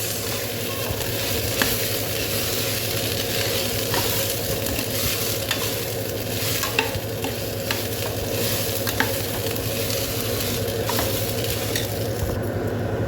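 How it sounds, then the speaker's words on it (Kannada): Rice frying in ghee with onions sizzles steadily in a pan, with occasional light scrapes and clicks of stirring over a constant hiss and no voices. "ಒಂದು 2 ಮಿನಿಟ್ಸ್ ನಾವು ಈ ನೀರುಳ್ಳಿ ಮತ್ತು ಗೀಯಲ್ಲಿ ಸ್ವಲ್ಪ ಫ್ರೈ ಮಾಡುವ. ಈ ರೈಸನ್ನು ಸ್ವಲ್ಪ ಫ್ರೈ ಮಾಡುವ"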